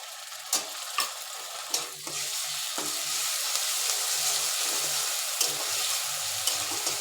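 A spoonful of ginger garlic paste fries in a pan: a few sharp spoon clinks at first, then a steady, close, hissing sizzle that carries on to the end.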